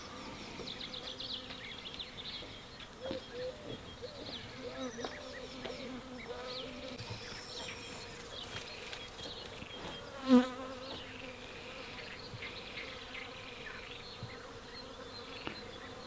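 Steady close buzzing of bees hovering near a swarm outdoors, one bee drifting nearer and loudest for a moment, with faint background noise around it.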